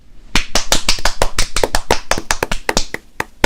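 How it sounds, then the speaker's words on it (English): A quick burst of sharp hand claps, about twenty in rapid irregular succession, loud and close, marking the start of a podcast recording session for a Black Summer season 2 episode discussion. "Let's clap it in."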